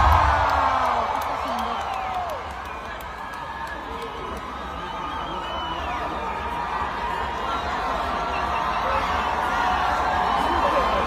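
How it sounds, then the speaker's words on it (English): A concert audience cheers and whoops for a live band at a cherry blossom festival event, a dense crowd roar that holds steady for the whole stretch with scattered shouts rising above it. "This guy needs a natural applause because he's been a bit sick today."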